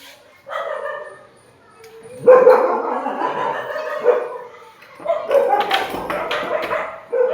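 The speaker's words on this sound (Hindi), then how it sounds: "कुत्ते हो गए।" Several dogs barking outdoors in bursts, with yips and whimpering mixed in, loud and close, in three uneven bouts separated by short pauses.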